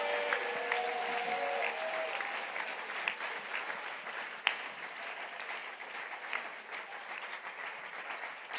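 A church congregation applauds to acclaim the Lord, a dense, continuous clapping that stays even and moderately distant throughout, with a brief louder clap burst midway.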